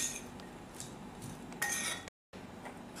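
A spoon mixing mayonnaise into iceberg lettuce in a bowl for a chicken burger: soft, repeated clinks and scrapes of metal against the dish over a low background hiss, with a brief dropout near the end.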